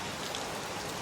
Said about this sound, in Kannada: ಹೆಂಗೆ ಹೊಡ್ಯಾಗುತ್ತೈತಿ ಮಳೆ